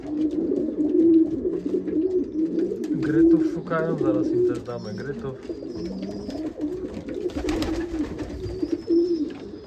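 Pigeons coo softly at close range while finishing a meal, low repeated calls running under a voice speaking throughout.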